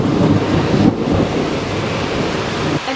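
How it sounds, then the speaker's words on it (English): A thunderstorm roars outside as a steady, loud wash of wind and rain-like noise with low rumbling underneath, continuous throughout with no talking. "There's a storm outside."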